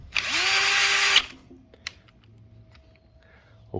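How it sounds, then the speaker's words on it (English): A power tool whirs loudly for about a second tightening a bolt on an electric pedal kit bracket, then cuts off, followed by a few faint clicks and a quiet tap. "And then I like to use my power tool."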